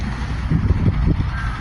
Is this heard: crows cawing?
yes